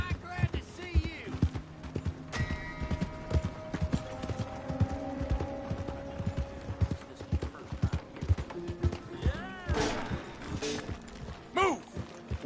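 Horse hooves clip-clop in a steady, close rhythm over hard ground, with a whinny or two and people talking and shouting intermittently around them.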